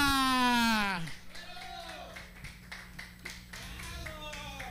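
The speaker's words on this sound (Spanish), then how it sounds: "le damos un aplauso a la tía Justa" After a drawn-out shouted voice fades, an audience breaks into scattered clapping for tía Justa at a festive gathering, the applause sparse and moderate and continuing under faint background voices.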